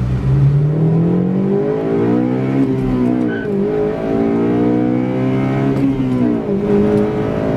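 A 2008 Honda Civic Si engine revs hard under aggressive driving to clear Seafoam-treated carbon, the note climbing and falling through gears, loud and close inside the car.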